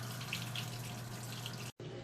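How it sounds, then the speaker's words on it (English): A Maytag washing machine draining its water, a steady close rushing and gurgling flow with a faint low hum underneath, briefly cutting out near the end before resuming. "Just draining out that water nice and fast."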